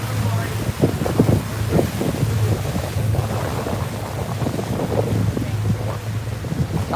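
A boat cruising Fort Lauderdale's Intracoastal Waterway, with a steady low engine hum and wind buffeting the microphone throughout, while people talk nearby.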